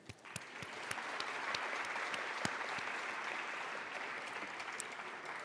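A conference audience at a pharmacy education science plenary applauds a speaker, steady sustained clapping with a few sharp individual claps standing out, fairly distant and even.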